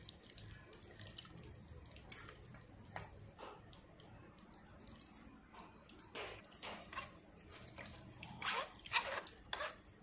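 Blended pandan leaf water being strained for a Thai dessert, a faint trickle and splash of pouring liquid with soft handling clatter, growing louder and more splashy toward the end.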